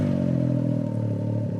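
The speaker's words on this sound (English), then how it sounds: "as soon as I fire up this side-by-side, I know it's got a big sound" A Can-Am Maverick X3 turbo side-by-side with an MBRP performance exhaust idles close by, a loud, steady, deep throbbing rumble without a rev spike.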